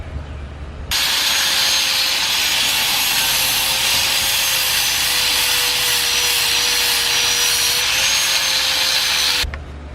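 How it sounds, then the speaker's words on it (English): A power grinder runs steadily for several seconds against a metal bracket on a 1965 Ford Galaxie, loud and close, with a harsh whine, then cuts off. "So I'm gonna grind this down."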